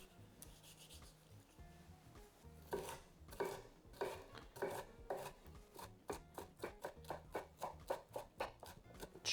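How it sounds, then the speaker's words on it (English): Knife chopping charred peppers into small cubes on a board, a steady run of sharp, close taps that quicken into an even rhythm, with a soft rubbing scrape before the cutting begins. "now we're just going to dice the peppers into nice little cubes"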